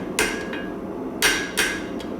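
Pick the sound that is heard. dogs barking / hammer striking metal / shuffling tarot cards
hammer striking metal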